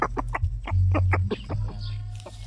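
A very large native rooster of about five kilos, kept in a backyard chicken house, clucks in a quick series of loud, close calls over a steady low hum.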